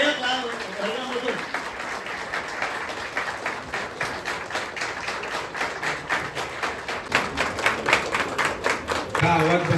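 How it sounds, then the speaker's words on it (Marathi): An audience claps at an academy's anniversary music event, scattered applause building into faster, sharper rhythmic clapping that grows louder toward the end, with a voice heard over it. "टाळ्या कशा वाजल्या पाहिजेत."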